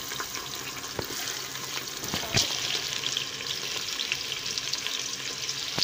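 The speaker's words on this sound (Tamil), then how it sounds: "இப்போ வந்து வெங்காயம் ஆட் பண்ணுறேன்." Onions go into hot oil for chicken biryani, a dense continuous sizzle with a few stirring knocks, loud and close, with no talking.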